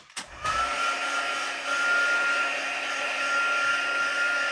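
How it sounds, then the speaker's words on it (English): Heat gun blowing hot air over paper craft pieces, a steady loud whooshing hum with a faint whine that starts after a click and runs continuously. "This I am going to take my heat gun to."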